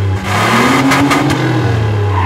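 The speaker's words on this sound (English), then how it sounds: "Having a coworker jumpstart your car." A car engine catches after a jumpstart and revs up, a steady loud mid-pitched roar with a rising sweep and a few bursts of acceleration, close by and with no talking.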